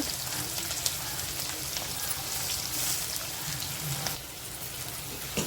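Sliced onions with curry leaves frying in oil, giving a continuous soft, steady sizzling hiss at a moderate distance with only slight variation throughout.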